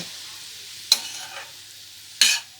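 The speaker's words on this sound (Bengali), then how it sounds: "আমি 8 থেকে 10 মিনিট এইভাবে কন্টিনিউ নেড়ে নেব।" Sweet vermicelli (jarda shemai) stirred in a pan: two short, sharp scraping strokes about a second apart over a faint, low sizzle, close and fairly quiet.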